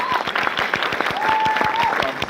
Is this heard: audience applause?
yes